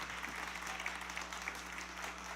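Applause from an audience at an evening fundraising event in Flatbush, after a large donation is announced; a steady, moderately distant wash of clapping fills the whole stretch, with a low hum underneath.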